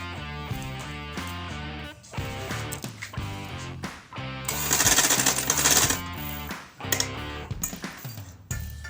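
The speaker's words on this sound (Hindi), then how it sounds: "ये हमारी कच्ची सिलाई लग चुकी है।" A sewing machine runs a basting seam on a box-pleated baby frock, its motor and needle making a fast, rhythmic mechanical chatter in several bursts with short pauses, close and fairly loud.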